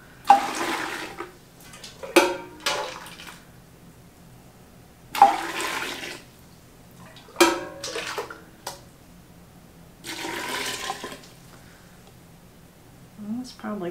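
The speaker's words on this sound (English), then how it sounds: "But I'm just going to start dipping me some water in there, cover them" Hot water dipped and poured over pickles in a kitchen, in several separate splashing pours with quieter gaps between them, close by, with a person talking in between.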